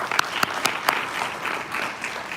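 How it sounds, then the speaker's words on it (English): Audience clapping for women honored at a community wealth-building talk, a steady wash of applause with a few sharper claps standing out early, holding fairly even for a couple of seconds. "please clap for them"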